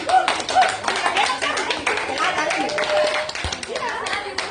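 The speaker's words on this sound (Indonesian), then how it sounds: "Oke, kita beri aplaus." Applause from an audience at an Indonesian teachers' workshop on managing emotions: dense, steady clapping throughout, with voices mixed in underneath.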